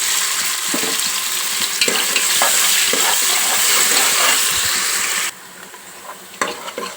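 Chopped onions fry in a pan, crackling loudly with frequent scraping stirs, then the sizzle drops noticeably quieter near the end with a few more stirring knocks.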